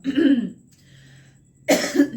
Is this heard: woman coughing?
yes